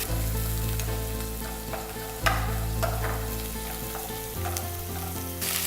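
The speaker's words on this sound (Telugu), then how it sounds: "ఈ చికెన్ పీసెస్ పూర్తిగా ఉడికేంత వరకు ఫ్రై చేసుకోవాలి" Chicken lollipop pieces frying in a pan give a loud, continuous close sizzle, with a steady oily hum and occasional spatters and a clack of the spatula partway through.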